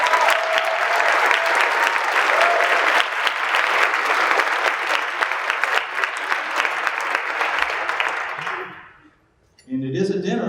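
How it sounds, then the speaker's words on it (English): Sustained applause from a dinner audience at a university holiday dinner and concert, dense steady clapping for about nine seconds that fades out, followed by a brief onset of speech. "a round of applause."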